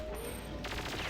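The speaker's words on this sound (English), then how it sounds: "I have to shoot it open." A burst of rapid video-game gunfire from Perfect Dark blasts a toilet door open, loud and close, with crackling automatic shots under steady game noise.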